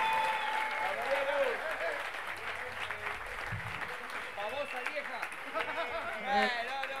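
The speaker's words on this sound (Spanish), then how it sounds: "Quiero un fuerte aplauso, Pizarro" An audience breaks into applause and cheering while someone shouts over the noise, the clapping steady throughout.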